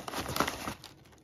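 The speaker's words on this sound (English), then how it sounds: "So cut open the tape, let's see what we've got in here." Tape on a cardboard parts box being cut open, a short dry crinkling and tearing burst that fades after about a second, close and fairly quiet, with no talking.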